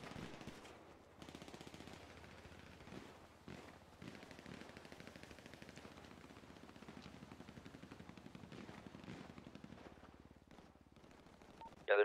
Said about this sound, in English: Yeah, they're shooting up at us.